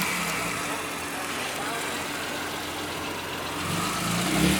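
A loud BMW engine runs at a dealership car show, a steady mid-range drone that swells slightly near the end amid ambient crowd noise.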